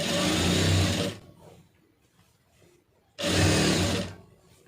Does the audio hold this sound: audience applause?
no